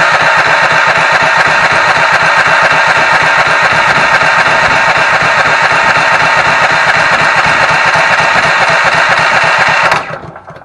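A Ridgid generator powered by a Honda GX390 engine runs loudly and steadily with a dense mechanical drone and rapid engine pulses, then cuts off abruptly near the end.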